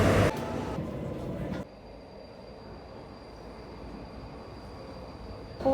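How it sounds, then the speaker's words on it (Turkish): Berlin metro train running, a steady rumbling rail drone that drops to a quieter constant hum with a faint high whine after a louder opening stretch. "metronun sonuna geldik"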